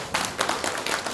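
A church congregation applauds during a Sunday morning service: a short burst of scattered clapping from many hands, fairly close and lively, with no talking.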